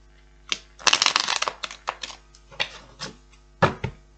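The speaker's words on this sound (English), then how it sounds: "One more shuffle, I feel, just make sure they're really mixed up well." Tarot cards riffle and slap together in quick, crisp bursts, then a few separate taps and shuffles up close.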